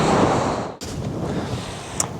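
Steady wind roars across an exposed, remote golf course, a broad rushing noise broken by a brief dropout and a small gust-like bump near the end.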